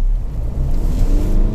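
A Kia Sorento Prime at full throttle from a standstill produces a loud, continuous low engine roar that holds steady and close throughout.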